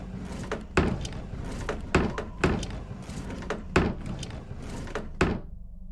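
Game sound effects in the horror game Strange Toilet as a secret bookshelf door opens: a run of heavy, regularly spaced wooden thunks and knocks over a dense, rumbling background, close and fairly loud.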